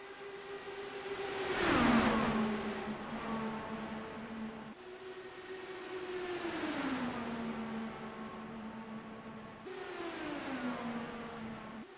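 Race cars in a video game lap the Daytona Oval, three engine whines sweeping past in turn, each rising then dropping in pitch as it passes, fairly faint and steady with no talk.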